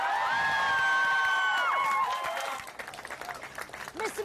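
Labour activists at an election-night event cheer and whoop for Ed Miliband, shrill shouts giving way to a burst of clapping and crowd noise, loud and close.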